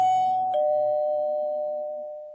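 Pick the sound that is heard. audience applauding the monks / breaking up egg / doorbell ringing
doorbell ringing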